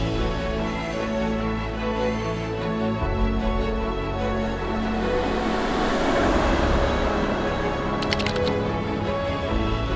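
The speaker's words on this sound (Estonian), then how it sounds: "Rong pidurdab praegu" Train braking on a rail line billed as the world's most dangerous, a steady loud rumbling roar with grinding, screeching tones throughout and a brief higher metallic squeal near the end.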